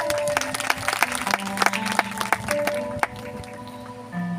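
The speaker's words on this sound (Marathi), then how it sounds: "जोरात टाळी वाजवा" Guests at Nitin and Nitija's wedding clap in a loose, scattered burst of applause, with sharp individual claps over a steady background of music and murmur.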